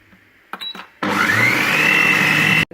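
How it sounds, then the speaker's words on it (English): A Thermomix whirs loudly on speed 6, mixing milk, honey and vanilla in a steady high-pitched blending roar for about a second and a half. It is preceded by a couple of short clicks and beeps and cuts off abruptly. "So milk, honey, vanilla on 20 seconds on speed 6."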